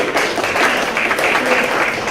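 Warm applause from an audience at a university event for FIU Global Learning staff, dense continuous clapping at a fairly loud, even level throughout.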